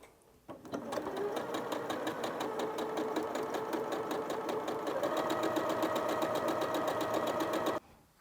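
A sewing machine runs steadily for about seven seconds, stitching fabric that starts on a small starter scrap while piecing a quilt block, with a fast, even mechanical chatter that stops abruptly.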